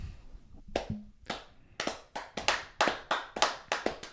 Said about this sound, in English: Give me my round of applause, please, both of you